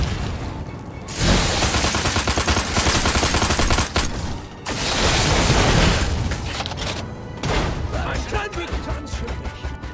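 Dense, sustained gunfire and booming impacts as the army attacks a building in the video game Destroy All Humans, loud and continuous with a brief lull just after the start and another around four seconds.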